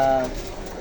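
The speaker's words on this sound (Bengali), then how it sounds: "হাই ফ্লাইং ভালো ভালো কিছু কবুতর আছে" High flyer pigeons at a pigeon shop in Khulna give a short, low coo that is close and fairly loud, then fades into a soft background murmur.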